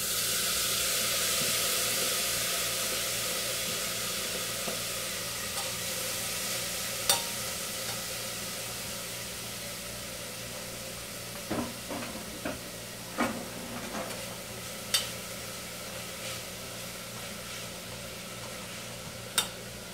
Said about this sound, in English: I'm just going to put the turkey into the pan that I'm cooking in